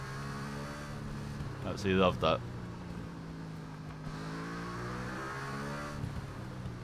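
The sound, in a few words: heavy motorbike engine braking in TT Isle of Man 2 video game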